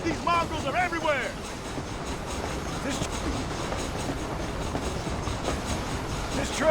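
A train rolls along in Red Dead Redemption: Undead Nightmare, a steady rumbling clatter filling the scene while a man calls out over it and other game sounds mix in.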